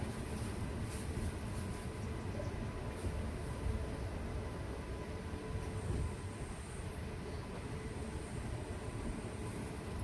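A train at Sengottai railway station, a continuous low rumble of rolling wagons with faint high wheel squeal, steady and fairly close, no voices.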